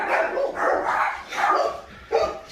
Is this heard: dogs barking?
yes